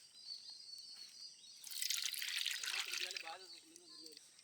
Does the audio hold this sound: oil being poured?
yes